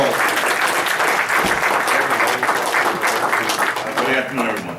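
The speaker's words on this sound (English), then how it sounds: "A nice round of applause." Loud, dense applause from a business conference audience greeting the introduced president of the New York, New Jersey Minority Supplier Council, continuous clapping filling the whole stretch with crowd murmur mixed in.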